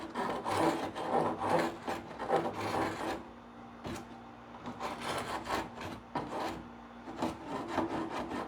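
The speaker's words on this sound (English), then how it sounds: "Now I'm just going to use a scraper." A hand scraper rasps along the wooden edge of a buffet in rhythmic, close strokes, each a dry scratchy pull with short gaps between.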